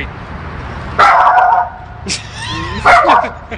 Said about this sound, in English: Is that a poodle?